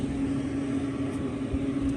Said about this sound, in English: You can hear my heater in the background.